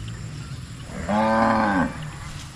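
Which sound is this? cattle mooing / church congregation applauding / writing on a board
cattle mooing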